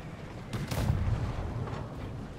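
Cannon fire during a castle siege battle in the video game Conquer's Blade: a couple of booming blasts over a steady rumble of battle noise, moderately faint and with no voices.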